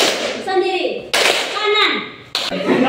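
A class of children plays the tepuk nyamuk clapping game, landing a few sharp, loud hand claps between the rhythmic phrases of a chanting voice.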